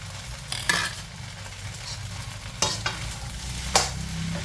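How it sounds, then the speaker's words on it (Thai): Pork belly stir-fries with egg and glass noodles in a pan, a soft steady sizzle broken by several scraping stirs and clinks of a utensil against the pan, close and without talk. "ผัดค่ะ ผัดให้สุกๆแล้วเดี๋ยวก็ขึ้นได้ค่ะ"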